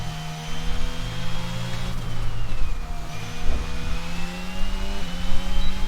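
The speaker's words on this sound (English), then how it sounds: "they did improve the engine sounds in this game. The engine sounds are so good." Formula 1 car engines in the racing game F1 22, set at the Austrian Grand Prix, give a sustained high-pitched whine whose pitch sweeps down and back up, steady and loud, with no speech.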